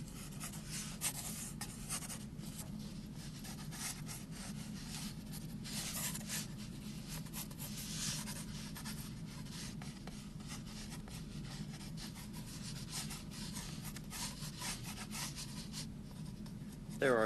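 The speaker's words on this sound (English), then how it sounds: "I tend to just sketch on the block itself, especially when working with a single color." Pencil sketches directly onto an MDF printing block, a soft, close, continuous scratching and rubbing of graphite on fiberboard with uneven strokes and brief pauses, quiet and alone.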